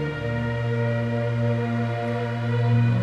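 An orchestral glissando slides smoothly up and down in pitch in imitation of a siren, forming a loud, sustained wailing tone with rich layered harmonics and no talking.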